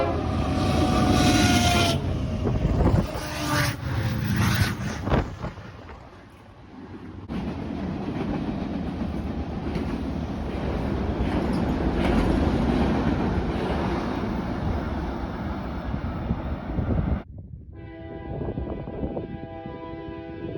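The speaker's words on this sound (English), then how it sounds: "On the east side of the park is a pedestrian bridge where you can watch all the trains roll underneath you." A freight train rolls beneath a pedestrian bridge at a depot park in Laramie, Wyoming, a loud continuous rumble and clatter of cars with horn blasts early on, then a shift in tone near the end.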